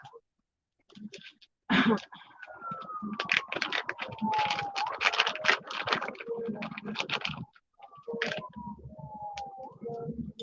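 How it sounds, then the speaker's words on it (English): A small plastic baggie crinkles and rustles close by in bursts as someone struggles to open it, with a few sniffs and throat sounds and a faint tonal whistle in the background. "I'm having a problem getting my little baggie here open."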